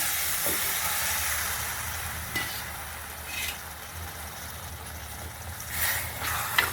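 Tamarind extract, made from slightly old tamarind, is poured into sautéed elephant yam in a hot pan, setting off a sustained steamy sizzle and hiss that surges in a few louder bursts.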